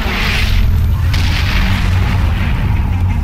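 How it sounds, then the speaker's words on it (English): Heavy, booming blasts of shadow bombs in the video game Darksiders II roll out loud and continuous, thick low rumble with sharp bursts layered over it. "Lovely, great shadow bombs."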